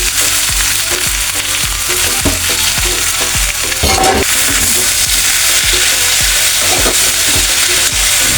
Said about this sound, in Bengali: এখন আমি পাতাকপিটা ভেজে নেব।